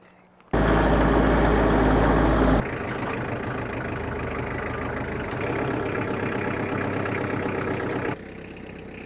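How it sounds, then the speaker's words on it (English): A tractor engine starts and runs, loud and steady at first, then settles into a continuous idle-like rumble for several seconds before dropping in level near the end. "So I'll go grab the tractor. We'll get it up with the tractor,"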